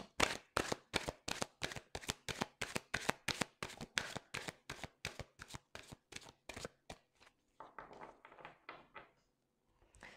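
A deck of oracle cards is shuffled by hand in a rapid run of crisp, close riffling slaps, then slows into softer scattered shuffles and a card being drawn.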